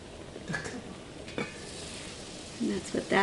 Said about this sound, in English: we have our tomatoes here nicely sauteing in the pan with the garlic and the butter and olive oil